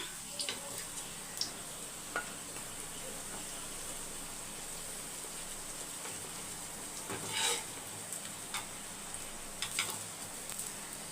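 Coconut oil heating in a pan gives off a faint, steady sizzle, with scattered small crackles and ticks over a low hiss throughout.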